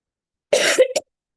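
A single close cough with a short follow-up hack, sharp and alone against silence.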